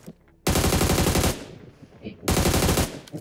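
An AUG assault rifle fires in BGMI in two fast automatic bursts, each about a second long, loud and close, separated by a short quieter gap.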